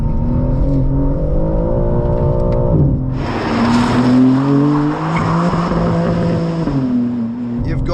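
A 2025 BMW M4 CS in rear-wheel drive spins its tires, the engine droning and rising in pitch through revs while tire noise swells loudly at mid-clip, with faint talk underneath.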